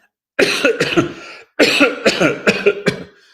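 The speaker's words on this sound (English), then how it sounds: "this cough is still around" Two close bursts of harsh, hacking coughs, a short pair and then a longer run of about five, separated by a brief silence.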